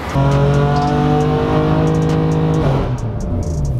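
BMW S55 engine revving hard on a dyno, a loud, close, sustained mechanical roar that holds steady and then drops off near the end, with no talking.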